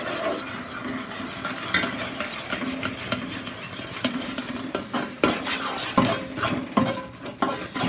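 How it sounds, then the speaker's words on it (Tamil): Ground roasted gram is stirred into hot sugar syrup in a pan for a burfy sweet, a steady scraping, clinking spoon motion against metal with a soft simmer beneath, close and without talk. "இப்போ வந்து நம்ம இந்த பொட்டுக்கடலை அரைச்சதை ஒரு கையில் கிண்டிக்கிட்டு ஒரு கையில் சேர்த்துங்க."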